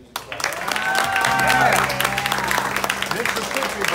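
A crowd at a music award presentation applauds, a burst of clapping that builds and carries on loudly, mixed with a held musical tone and some voices.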